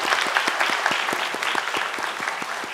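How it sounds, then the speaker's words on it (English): An audience at the Tang Prize forum on biopharmaceutical science applauds with steady, fairly loud clapping from a large crowd, with no talk over it. "I would like to call the entire audience to join me to give them a big applause"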